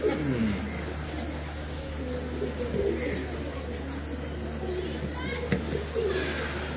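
Pigeons coo in low, soft repeated calls under ongoing speech, with a steady high-pitched whine running throughout.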